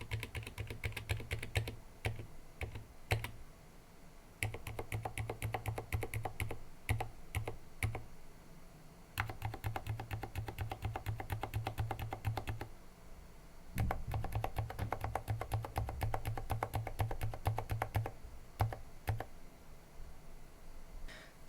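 Typing on a keyboard with silent linear mechanical switches, stock and lubed with TX oil along with the springs, produces close, muted, rapid keystroke clacks in bursts separated by brief pauses.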